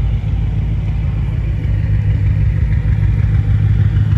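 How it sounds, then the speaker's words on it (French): A BMW M5 idles on a London street, a steady low engine rumble with a faint clattering edge that stays loud and close throughout, with no talking over it. "Là il y a une M5, alors j'essaie de m'approcher pour que vous entendiez le ralenti."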